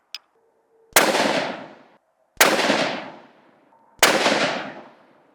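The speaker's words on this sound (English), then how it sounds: "Let's shoot a few groups and see how this AB3 Hunter" A Browning AB3 Hunter bolt-action rifle fires three separate shots at a range, each a sharp, loud crack followed by a decaying echo, spaced about one and a half seconds apart, with a faint click before the first.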